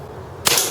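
A single sharp shot from a Marushin Cop .357 propane-powered airsoft revolver firing 8mm BBs, a crisp close pop with a brief hissy tail after a quiet lead-in.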